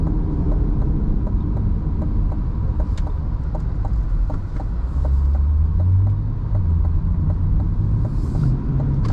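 A C8 Corvette Stingray cruises down the road, its engine a steady, loud low rumble with road and tyre noise running unbroken throughout, heard from inside the car.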